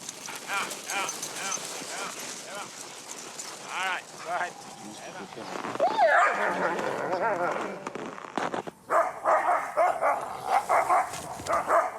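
Sled dogs in Lapland barking and yipping in a loose, overlapping chorus at close range, mixed with harness and movement noise, with a louder burst partway through.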